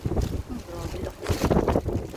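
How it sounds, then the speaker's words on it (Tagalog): Strong gusting typhoon wind during landfall in Hong Kong buffeting the microphone in heavy low rumbling bursts, with a voice speaking faintly beneath it. "Sobrang lakas ng hangin dito."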